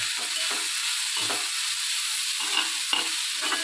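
Banana flower and bean stir-fry in a pan, giving a soft continuous sizzle with a few quiet stirring scrapes and clinks, alone with no voices.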